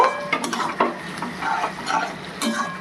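Capsicum sizzles in a hot pan for chilli soya chunks, with a steady fry under repeated scraping stirs and light utensil clinks against the pan, fairly close, and no voices.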